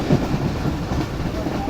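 The Jaffer Express, hauled by a Chinese locomotive, rumbles toward Lahore Junction, a steady dense roar of railcars and faint clickety-clack close by with no talk.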